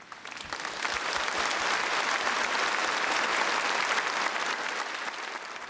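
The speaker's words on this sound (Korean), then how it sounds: "그럼 훌륭한 축궁시를 지은 우리 꼬마 시인들에게 다시 한번 축하의 박수를 보내줍시다" An audience applauds young poets at a children's union celebration on stage, a dense sustained burst of clapping that swells in quickly and holds steady throughout.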